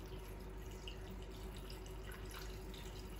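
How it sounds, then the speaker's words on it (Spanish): Water poured into a pot while batch cooking, heard as a faint continuous splashing trickle with small drips, steady and quiet throughout. "Vamos a ponerle 350 gramos de agua."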